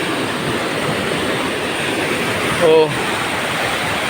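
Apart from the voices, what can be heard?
rushing flood water from the mountain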